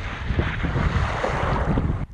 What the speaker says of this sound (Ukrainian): приходить якась туча, з'являється вітер